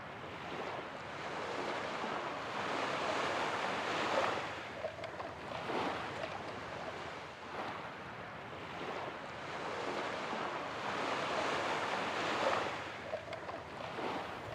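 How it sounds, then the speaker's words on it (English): Ocean waves surge and wash around a sailing boat out at sea, with steady wind buffeting the microphone; the broad roar swells and eases in slow, regular cycles, loud and close throughout. "the waves just get immensely big going out here"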